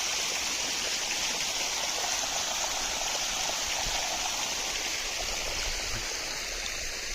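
Irrigation water runs steadily through channels in a sugarcane field, a constant rushing, stream-like flow that stays loud and even throughout, with no voices over it.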